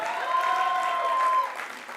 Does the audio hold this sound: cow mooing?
no